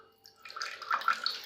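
Water is poured into a buckwheat shake mixture, a faint, close trickle that builds into a steady gurgling stream.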